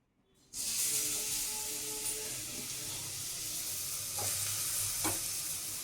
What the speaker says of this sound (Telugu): మళ్ళీ కొంచెం నెయ్యి వేసి కొంచెం నెయ్యి వేసి క్యారెట్ తురుము వేపు